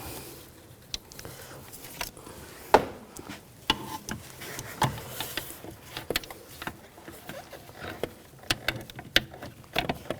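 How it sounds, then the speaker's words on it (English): Ratchet with a long extension and a 13mm socket working on a 2011-2018 Volkswagen Jetta brake master cylinder, irregular close clicks and metallic knocks over a low background hum. "Then you can get a long extension and use the 13mm socket."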